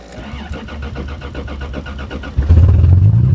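An older Toyota car, a GTS or Cressida, cranks and catches, then its engine revs up loudly and runs close by, with no voices.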